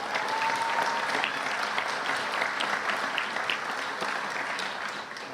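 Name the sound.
audience applause at police promotion ceremony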